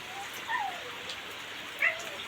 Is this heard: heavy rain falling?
yes